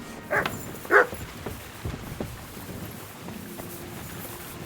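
A dog in the medieval game Kingdom Come Deliverance II gives a couple of sharp, fairly close barks early on, followed by fainter yips and soft footsteps over quiet ambience.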